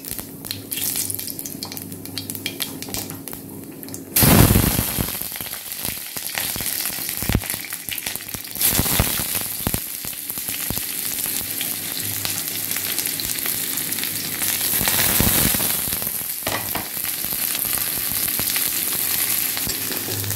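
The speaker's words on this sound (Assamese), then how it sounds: "পাঁচফোৰণ পিয়াজ কেঁচা জলকীয়া আদা নহৰু পেষ্টখিনি আৰু নহৰু তিনি ফুটা মই দিলো তেলত" Panch phoron, onion, green chili, ginger-garlic paste and whole garlic cloves dropped into hot oil, with a loud burst of frying at the drop and then a dense, continuous sizzle with occasional stirring clatter.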